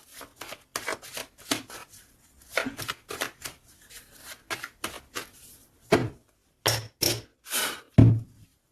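Deck of oracle cards being shuffled and cut by hand: a close, quick run of papery riffles and slaps in uneven bursts, ending with a few sharper, louder flicks.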